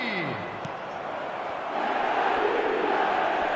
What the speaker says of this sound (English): Crowd appreciates good football all round there.